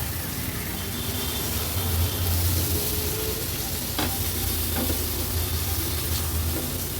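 Loud, close sizzling of potato slices tossed in spiced oil tempering on a high flame, a steady frying hiss broken by a few distinct spatula scrapes and knocks against the pan.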